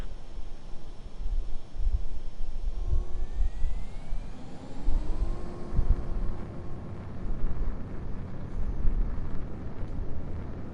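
A jet fighter taking off in Ace Combat 7, a loud broadband engine roar with rising whine tones sweeping upward as the aircraft accelerates, sustained and close throughout with no talk.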